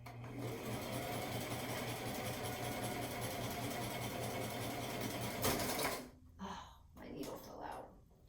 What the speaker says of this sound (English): I'm going to hope my sewing machine does great for me.